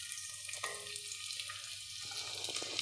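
Chopped shallots frying in hot oil in a home kitchen pan, giving a steady close sizzle with a broad hiss that holds through the whole stretch, with small crackles and no talking.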